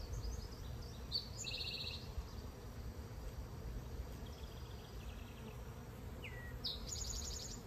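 Honey bees buzz around an open hive box, a dense, steady hum that carries through the whole stretch at a soft, even level. Occasional faint high chirps, probably birds, drift in the background, and no one speaks.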